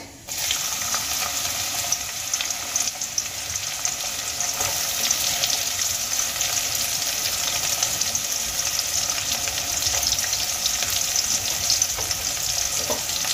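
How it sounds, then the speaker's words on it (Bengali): Chopped onions fry in hot oil with black cumin in a pan, a steady dense sizzle running close and even throughout with faint stirring and clinks. "এবার পেঁয়াজগুলোকে হালকা করে ভেজে নেব।"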